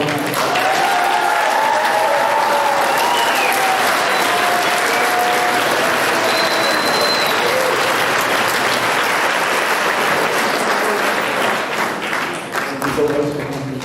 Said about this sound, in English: we set a world record for the most clapping in one night here